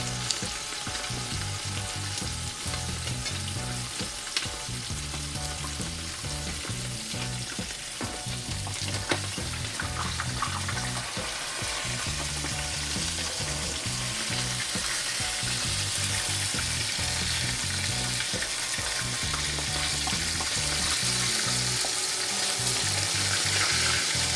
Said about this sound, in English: when you're frying your fish, the oil goes and fry on the inside also.